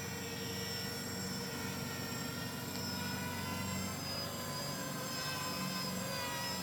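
Motors of a 3D 6X hexacopter drone whirring steadily at full speed during a spin, a continuous high-pitched whine with layered tonal hums, moderately near with no talk.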